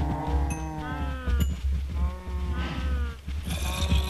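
Cows in a farming game low and bleat in a quick overlapping series of calls, several animals sounding close together over a low steady hum.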